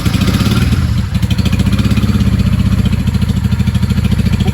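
A 1995 Honda Shadow VLX 600 V-twin with a carburetor problem runs loudly up close under held throttle, its rapid, even pulsing firing rhythm continuous, with one brief dip partway through.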